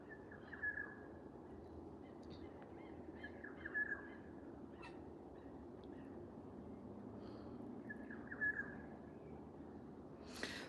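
Birds call outdoors in Australian bushland, with a few brief clear chirps spread across a quiet background and a soft hum beneath.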